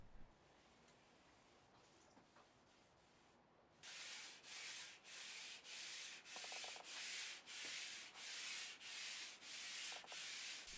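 Hand sanding a finished wooden workbench top between coats: steady back-and-forth strokes of sandpaper rasp in an even rhythm, about a dozen close, scratchy passes after a quiet start.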